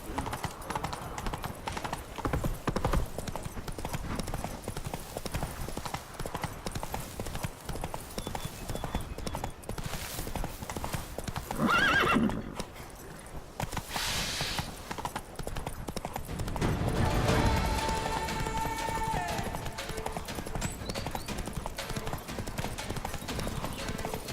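Roach, Geralt's horse in The Witcher 3, trots with steady clip-clopping hooves under a busy game soundscape and gives a short neigh partway through.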